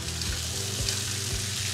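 Cactus pickle ingredients sizzle steadily in a pan over a low flame, a continuous close frying hiss with a few soft stirring knocks and no voices.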